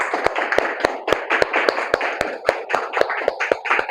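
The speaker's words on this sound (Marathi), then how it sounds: "आपण येशूसाठी टाळ्या वाजवू." A church congregation claps hands for Jesus in a steady, even rhythm, about four claps per second, sharp and close with no voices over it.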